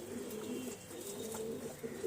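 Pigeons coo softly and steadily in a loft, their low rolling calls repeating over a constant background hiss with no talking.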